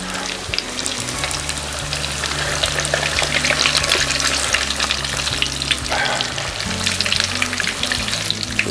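Crappie fillets frying in very hot grease in a pan over medium heat, a loud, continuous close sizzle and bubbling crackle that holds steady throughout without any voices.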